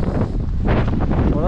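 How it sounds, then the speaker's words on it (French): Strong wind on the high ridge of Mont Ventoux, snowy and cold, buffeting the microphone in loud, gusty roaring bursts close up. "sur les crêtes, on le sent bien là, le vent"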